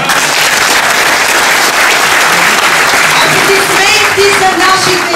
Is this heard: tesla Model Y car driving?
no